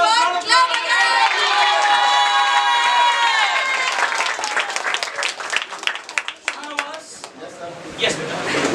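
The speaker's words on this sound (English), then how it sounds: "Guys, everyone, clap again." An audience at a felicitation celebration claps and cheers loudly and steadily, with whoops and shouted voices riding over dense applause before it thins out into scattered claps.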